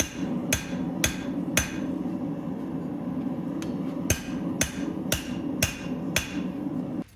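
Hammer blows ring out while forging a twist Damascus steel Bowie knife, about a dozen sharp metallic strikes in irregular clusters over a low background hum, close and fairly loud.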